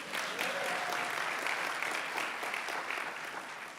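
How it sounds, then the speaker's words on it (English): An audience at a charity pitch competition finals claps steadily for a few seconds, a dense even patter of many hands at moderate volume with a faint voice briefly audible beneath. "You can clap a little bit for that."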